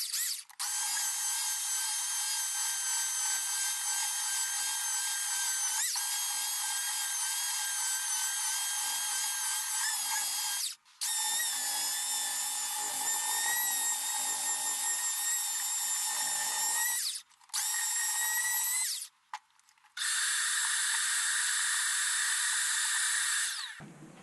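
A belt sander works a mulberry wood cutting board, giving a loud, high, steady whine that runs for long stretches with brief stops and restarts, close and without talk.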